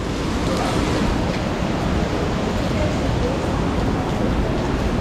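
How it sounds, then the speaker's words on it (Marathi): Kondeshwar waterfall near Badlapur in the rain, a steady, loud broadband roar of falling water close by, unbroken throughout. "मस्त आहे ना धबधबा काजल"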